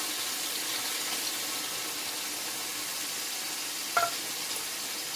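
Paneer fries in a pan at moderate heat, a steady, dense sizzle that holds evenly throughout, close by, with a single faint clink near the end.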